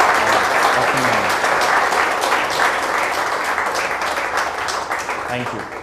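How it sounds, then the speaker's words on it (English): Loud, dense audience applause following a leadership and innovation presentation, a continuous crowd of clapping hands with faint voices mixed in, fading slightly toward the end. "give a great hand of applause for this excellent presentation by Dr. Maini"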